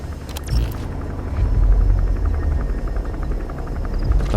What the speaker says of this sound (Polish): helikopterek.